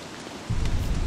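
Rain begins falling in the video game Don't Starve, a steady hiss that swells suddenly into a dense, loud downpour with a low rumbling body, no voices over it.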